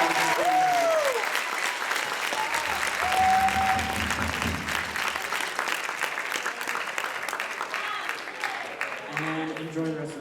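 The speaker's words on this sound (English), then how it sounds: "Give them a round of applause." Audience applauding a graduating class at a spring show, a broad sustained wave of clapping that gradually thins out, with cheers and voices mixed in over it.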